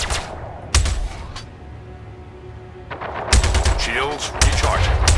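Spaceship weapons fire in the video game Star Citizen arrives as loud bursts of rapid gunfire in two separate volleys, with a quieter humming stretch between them and a synthetic voice announcing ship status over the shooting.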